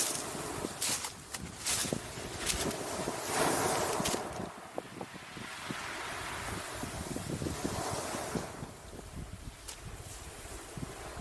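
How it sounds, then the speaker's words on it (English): Steady sea breeze at a beach, a broad wash of wind and rough microphone buffeting that swells and eases over about eleven seconds, with faint surf underneath and no talking. "at the moment there's a bit of a breeze"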